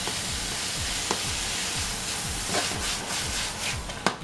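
Cabbage and other vegetables for egg rolls tossed in a new copper pan, with a loud continuous sizzle and repeated rhythmic scraping sweeps of a utensil across the metal.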